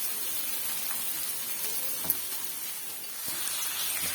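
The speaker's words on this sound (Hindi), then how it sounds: "दाल को हम फ्राई करेंगे क्रिस्पी होने तक और इसे हम हाई फ्लेम पे फ्राई करेंगे" Chana dal frying in a pan over a high flame, a steady soft sizzle and hiss running throughout with a faint stir or clink midway, with no voices.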